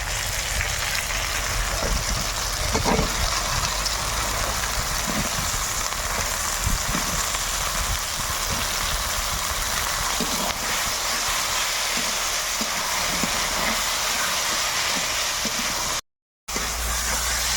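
Onion stalks hit frying tomato spice masala in a pan, a loud, steady sizzling hiss that runs on with occasional stirring knocks.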